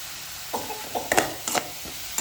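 Onions with curry leaves, salt and a little coriander sautéing in a pan for kuzhi paniyaram batter, with a steady soft sizzle broken by a few sharp stirring scrapes of a spoon, close and moderately quiet.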